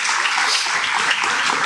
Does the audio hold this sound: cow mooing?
no